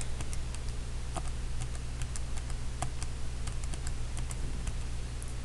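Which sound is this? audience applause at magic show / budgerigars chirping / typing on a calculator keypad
typing on a calculator keypad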